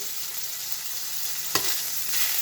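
Liver seasoned with black pepper fries in a pan for liver and onions, giving off a steady, close hiss of sizzling with one brief clack partway through.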